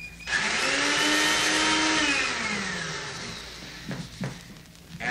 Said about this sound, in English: The blender.